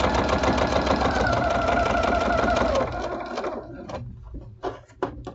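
A sewing machine stitches a fabric bowl cozy with a steady, loud, fast mechanical whir for about three seconds, then slows into a few short, uneven bursts before stopping.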